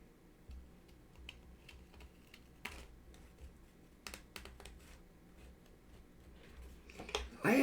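Paper is fussy-cut with scissors in scattered, close snips and crisp rustles, quiet overall, with a louder handling noise at the end.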